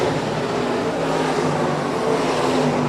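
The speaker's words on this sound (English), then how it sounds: "Your first heat race of Wings America IMCA Late Models." IMCA Late Model race cars in a heat race at Shelby County Speedway, a steady dense engine roar filling the air without letup, with no clear single pass standing out.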